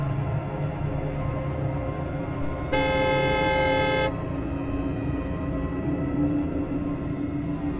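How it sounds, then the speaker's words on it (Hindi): A single sustained car horn blast, loud and close, lasting over a second against steady traffic and engine rumble. "उसके उतर जाने की उम्मीद में मैंने हॉर्न बजाया।"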